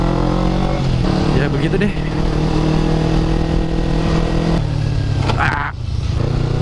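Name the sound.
motorcycle engine braking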